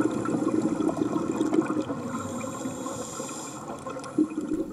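Underwater bubbles from a diver's breathing while floating and watching fish, a soft, continuous watery gurgle and muffled trickling with a brief louder burst near the end.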